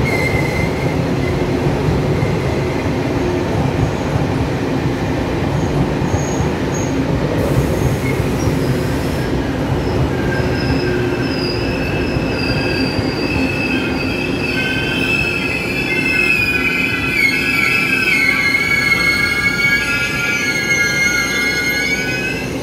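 Taiwan Railway Tze-Chiang express departing Miaoli, a twelve-car PP push-pull set with E1000-class electric power cars at each end, rumbling steadily close by as its wheels squeal in rising, bending tones through the second half.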